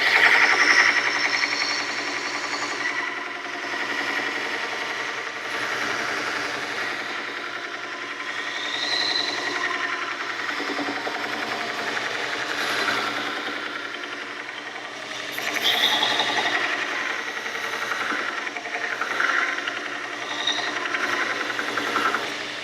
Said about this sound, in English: I'm going to start my grind from this side.